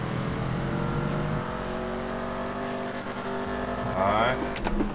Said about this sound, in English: Now I'm letting it rev up so you can hear the revs.